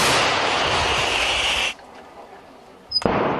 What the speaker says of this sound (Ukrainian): Британська гармата Л-119 б'є влучно, немов снайперська гвинтівка